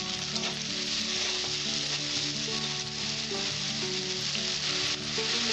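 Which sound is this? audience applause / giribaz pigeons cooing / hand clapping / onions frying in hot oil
onions frying in hot oil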